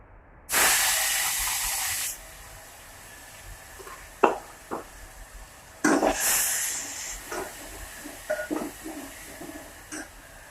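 Garlic paste hits hot oil while tempering after mustard seeds have spluttered, bursting into a loud sharp hiss that fades, followed by scattered crackles and a second strong sizzle, with no talking.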